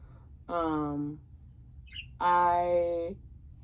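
Pet birds squawk twice indoors, two loud, harsh calls about two seconds apart with a brief soft chirp between them.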